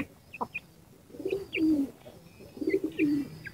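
Pigeons coo from a backyard loft where a nesting pair sits on four eggs, giving repeated low, throaty coos in short bursts with brief pauses and faint higher chirps, fairly close and with no talking.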